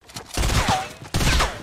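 Two quick bursts of rapid gunfire in the video game Fortnite, each a short dense volley with a sharp onset, loud and close with no talk over it.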